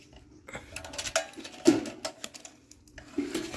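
A lid is set onto a microwave pyrolysis reactor that turns plastic into fuel, giving a few soft metallic clanks and knocks, with one louder, sharper clunk midway, close up and otherwise quiet.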